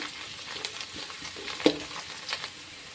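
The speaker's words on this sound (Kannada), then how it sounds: "ಈರುಳ್ಳಿ ಕಲರ್ ಚೇಂಜ್ ಆಗೋ ತನಕ ಇದನ್ನು ಫ್ರೈ ಮಾಡ್ಕೊಳ್ಳೋಮ್ರಿ" Chopped onions sizzle steadily in a hot pan for an egg gravy made with fresh coconut, a close, even frying hiss with a few soft scrapes of stirring.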